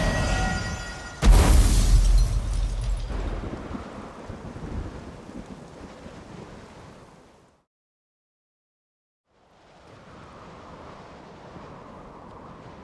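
A thunderstorm in The Witcher 3 opens with a sharp, loud crack of thunder that rolls into rumbling and rain. It fades to near silence, and then soft rain returns.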